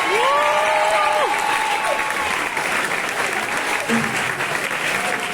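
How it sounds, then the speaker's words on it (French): Audience at a concert applauding, steady dense clapping throughout, with voices calling out over it. "Donc, merci beaucoup, on les applaudit."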